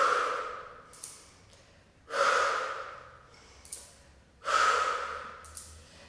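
A person breathes slowly in and out during a Pilates exercise at home, three long, close breaths at an even pace with short pauses between them.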